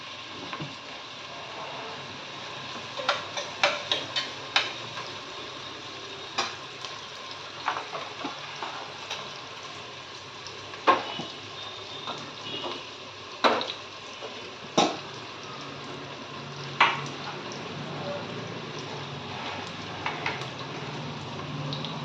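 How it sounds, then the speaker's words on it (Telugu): Onions fry in a pan for a Telugu chicken curry, giving a steady, low sizzle with repeated sharp spatters and spoon-on-pan clicks scattered through it. "ఉల్లిపాయ బాగా వేగినాక అప్పుడు పచ్చిమిరపకాయలు వేయాలి"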